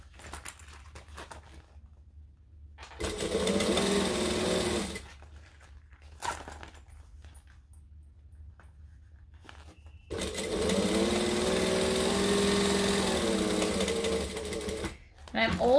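A sewing machine stitching a fabric bag runs in two bursts, about two seconds and then five seconds long, each a steady close whirring hum, with a person talking in the quieter stretches between them.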